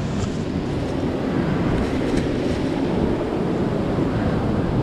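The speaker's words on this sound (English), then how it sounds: "I'll wait for the wave to come in." Surf rolling onto Salt Creek Beach in South Australia, heard as a steady, loud broadband wash with wind buffeting the microphone and no distinct breaks, filling the whole stretch without talk.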